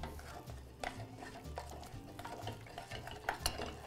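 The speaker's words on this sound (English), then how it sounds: "we can add our second egg. And we can just fold this last egg in" An egg is folded into choux pastry dough with a spoon or spatula, giving soft wet stirring and scraping against the bowl with occasional clinks, close and fairly quiet.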